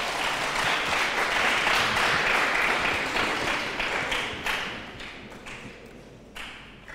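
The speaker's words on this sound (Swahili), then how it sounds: "Wapige makofi hata hivyo." A school audience claps in a dense, steady burst of applause that thins and fades toward the end, with a few single claps trailing off.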